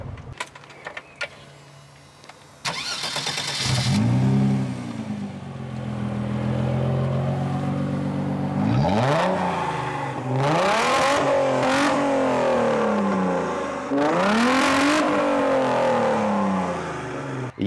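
A Tarpan vehicle fitted with a swapped 3.2-litre 220 hp engine starts with clicks, then revs hard several times with rising, falling engine pitch and pulls away, loud and close throughout.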